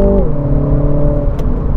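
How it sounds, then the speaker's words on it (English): A 2023 Mini Cooper S 3 Door automatic engine's pitch drops as it downshifts via paddle shifters, then runs on with a rough, steady rumble close by. "You can downshift that way"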